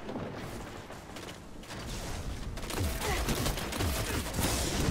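Dense rapid gunfire from a firefight in the video game Destiny during a zone-capture match, steady overlapping bursts that build louder toward the end, with no talk over it.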